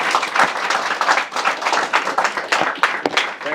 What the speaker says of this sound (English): Let's give Sevak a round of applause.